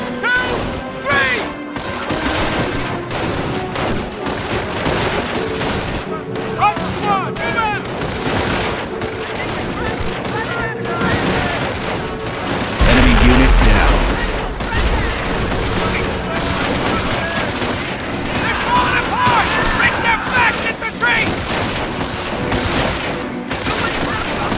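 Battle gunfire in the Company of Heroes PC game, dense and loud, with rifle and machine gun bursts, crashes and booms layered over a constant din and shouted voices throughout.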